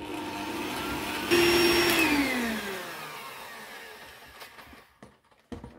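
A hand mixer whirs steadily through cheesecake batter with cold water just poured in, the motor pitch dropping as it slows and winds down, then a few clunks and knocks at the end.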